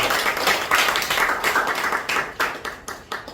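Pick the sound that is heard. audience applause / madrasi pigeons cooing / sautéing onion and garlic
audience applause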